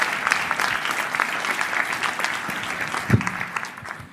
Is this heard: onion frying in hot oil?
no